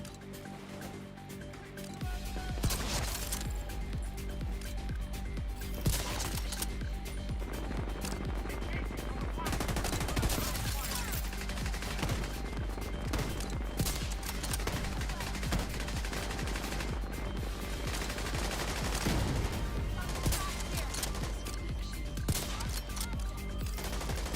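Rapid automatic gunfire from The Division 2 rattles almost nonstop for over twenty seconds, dense bursts with sharp single shots layered in, loud and close, while voices shout intermittently underneath.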